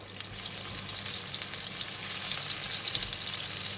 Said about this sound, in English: So we're going to continue to fry the salted fish and the garlic until it's cooked.